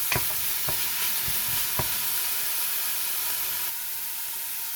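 Peas fry in oil in a pot, hissing in a steady broad sizzle with a few sharp utensil taps early on, then the sizzle drops slightly in level.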